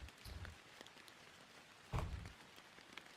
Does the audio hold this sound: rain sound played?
yes